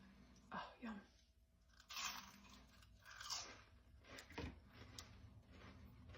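Someone bites into a crisp onion ring from a food truck, with several close, loud crunches followed by chewing; quiet voice-like sounds and handling noise sit alongside.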